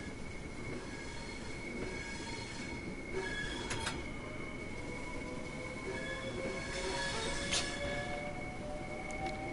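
A train in Train Sim World 2 gives off a sustained high-pitched flange squeal over a steady rolling rumble, the whine wavering and intensifying in places, with no voices.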